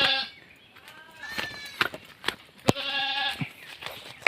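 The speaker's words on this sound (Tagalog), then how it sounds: "kambing niyang nanganak na si Alpine" Several goats bleat in short wavering calls, close by, including a newly kidded Alpine doe, with a few sharp clicks and knocks between them.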